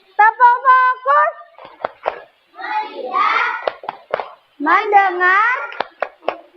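Children in a fourth-grade classroom chant the rhythmic tepuk fokus routine together, their sung words punctuated by sharp claps at steady intervals, close and lively.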